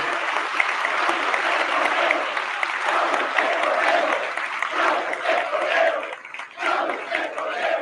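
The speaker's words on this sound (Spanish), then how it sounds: "Un aplauso grande a las y los trabajadores de Pemex" A large audience applauds and cheers at a political speech honoring Pemex oil workers, dense sustained clapping with shouts mixed in, tapering slightly near the end.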